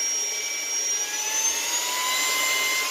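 Saker cordless handheld vacuum cleaner running steadily on its high setting, a continuous close, loud motor whine with a bright airy hiss and no speech.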